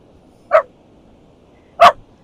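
A dog barks twice, short sharp woofs spaced more than a second apart, close by against a quiet background.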